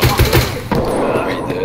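Rapid pistol gunshots in the Escape from Tarkov video game, loud, dense bursts fired in quick succession with heavy thumping reports, over a noisy game background.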